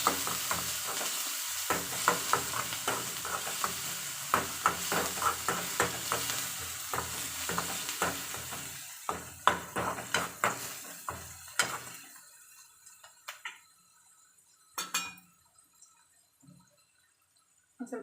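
Okra frying with salt in a pan for a North Karnataka–style palya, stirred with scrapes and sizzling throughout, the frying hiss steady before thinning out near the end with a few sharp clinks.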